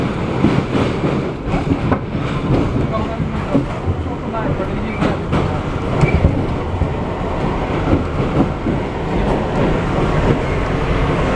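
An R62A subway train runs on the IRT Flushing line at speed, a loud continuous rumble and roar of wheels on track with rattling clatter throughout, heard from on board.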